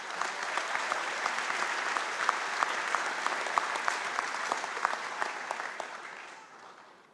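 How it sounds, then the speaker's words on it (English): A graduation ceremony audience claps in a large, sustained round of applause with sharper individual claps standing out, fading away over the last second. "Please also give them a round of applause."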